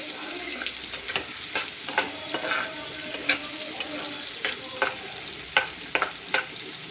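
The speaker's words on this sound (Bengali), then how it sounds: "পেঁয়াজটা লাল লাল করে ভেজে নিয়ে আমি আলুটা দিয়ে দেবো।" Onions fry in oil in a pan, reddening, under a constant sizzle, while a utensil stirs and scrapes in repeated sharp strokes, close and fairly loud.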